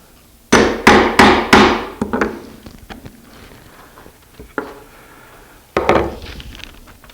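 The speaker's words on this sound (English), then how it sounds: "Take a chisel, clean it out." Chisel struck with a mallet to clean out a hole in wood, a run of four loud close knocks in steady rhythm, then softer scattered taps and one more firm blow.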